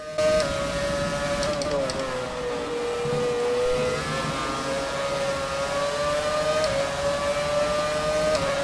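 F1 racing car engines from the F1 2017 game, including a 2008 McLaren, a 2007 Ferrari and a 2006 Renault, scream in a sustained high-revving whine that rises and falls slightly through gear changes. There is no talk.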